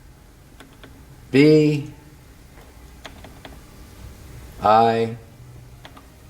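A name is entered on the buttons of a Yamaha Tyros 5 keyboard: scattered faint, sharp button clicks sound between two short bursts of a person speaking.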